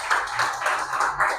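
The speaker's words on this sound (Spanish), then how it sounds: "denle un aplauso al Señor" A church congregation claps for the Lord, a short burst of quick, rhythmic group clapping with about five distinct pulses, close and fairly loud.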